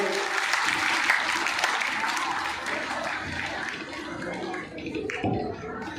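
Devotees at a Bhagavat Katha gathering clap in a steady, moderately loud wash that fades slightly toward the end, with murmured voices mixed in.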